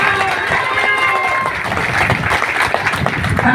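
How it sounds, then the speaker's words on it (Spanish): A crowd at a National Action Party rally in Lázaro Cárdenas, El Cerro Gordo, gives loud, sustained applause for candidate Antonio Leija Villarreal, a steady wash of clapping mixed with crowd noise. "un fuerte aplauso a nuestro candidato de Acción Nacional, al señor Antonio Leija Villarreal"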